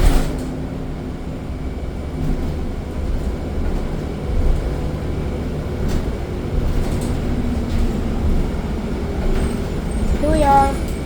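Riding aboard a TTC 944 Kipling South express bus: a continuous, loud engine drone and road rumble with occasional rattles, steady throughout, and brief chimes near the end.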